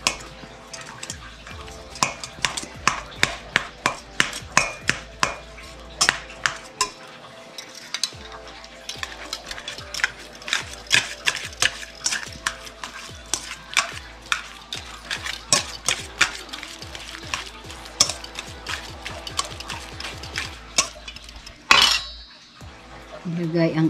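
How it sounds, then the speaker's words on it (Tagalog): Ripe bananas for whole wheat banana bread are mashed with a utensil in a bowl, producing a steady run of sharp clinks and taps close by, with soft squishing between strikes. "Ating imas ang ating banana."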